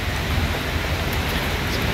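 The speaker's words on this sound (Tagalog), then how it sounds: "Lumakas na naman ang ulan dito, kanina umbon-umbon lamang kab, so ayun medyo lumakas-lakas na naman" Heavy rain falls in Poland, a dense, even hiss of water pouring down without pause for two seconds, close and loud, with no voices.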